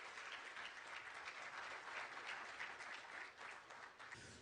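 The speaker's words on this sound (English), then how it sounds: "Shall we please welcome him with an applause" Sustained applause from a large crowd, a dense even clatter of clapping that holds steady for several seconds, heard from a distance.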